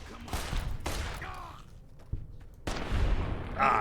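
Magnum revolver gunshots in the game Fallout New Vegas, several sharp loud reports spaced irregularly among other game sounds, with a voice talking at the start.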